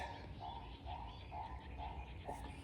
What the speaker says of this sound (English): Those are purple crested taracos.